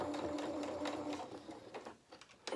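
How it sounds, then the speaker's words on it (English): A home sewing machine stitching a few stitches forward and a few back on a fabric toy cat body, a close steady mechanical whir with rapid needle ticks that slows and stops near the end. "A couple of stitches forward, a couple of stitches back."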